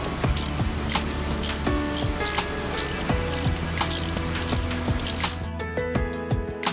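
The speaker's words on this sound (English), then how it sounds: "Now, unscrew the intake manifold bolts" A ratchet turning intake manifold bolts on an Opel engine: rapid, steady clicking of the pawl runs throughout, close and crisp, with a brief pause near the end.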